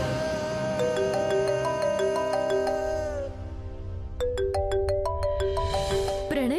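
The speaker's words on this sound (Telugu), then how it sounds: "ప్రణయ్ ఫోన్కి ఎవరో ఫోన్ చేస్తున్నారమ్మా" A mobile phone ringtone plays a bright repeating electronic melody for an incoming call during a Telugu TV serial scene. It is loud and close, with a brief pause midway before the tune starts again, and there is no talk over it.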